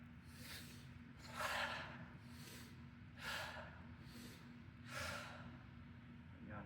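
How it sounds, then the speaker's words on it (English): Several deep, slow breaths drawn in and let out during a qi gong class, each a soft airy rush spaced a second or two apart over a steady low background hum, with no talking. "3 big breaths"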